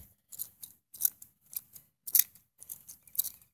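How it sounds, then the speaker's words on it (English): Plastic Lego bricks rattle and click inside shoes with each step of a person walking, a run of sharp, close clicking bursts in a steady stepping rhythm with no voice over them. "You can probably hear the Legos if I be quiet."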